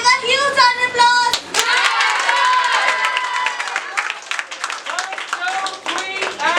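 Children and adults clapping at a birthday celebration in a classroom-style gathering, loud and uneven, with excited voices and shouting mixed in throughout and a sharp bang near the start.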